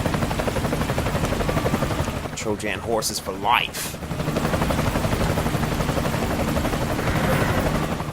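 A helicopter's rotor beats with a steady pulsing thrum in Metal Gear Solid Ground Zeroes, loud and close, while a voice speaks briefly over it.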